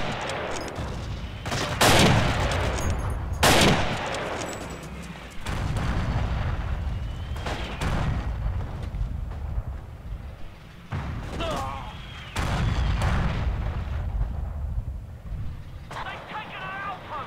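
Grenade blasts and gunfire in the World War II shooter Forgotten Hope 2, on the Fall of Tobruk map. Loud booming explosions arrive every few seconds over sustained rattling shots, with players talking now and then between the blasts.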